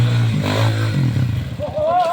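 A motorcycle with a cut exhaust rumbles nearby with a rough, uneven throb and revs up toward the end. Voices talk over the engine noise.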